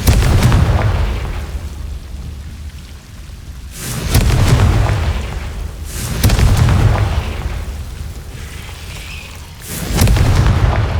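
Fiery blasts of the Confringo explosive spell in Hogwarts Legacy, a loud booming burst about every two seconds, each swelling and fading over a steady low rumble with no talking.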